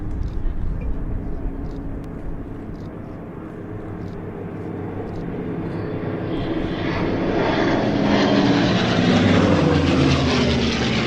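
A P-51 Mustang propeller fighter in 78th Fighter Group colours with checkerboard markings flies past at an air display, its engine drone swelling steadily louder and nearer, with faint voices in the background.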